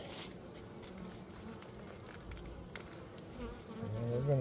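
Honey bees buzz steadily around their hive during feeding, a dense close swarm hum with a louder drone swelling near the end.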